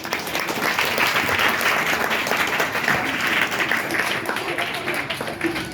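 An audience at a Marathi Language Day gathering claps for the women poets, a thick, even wash of applause sustained for several seconds without letup.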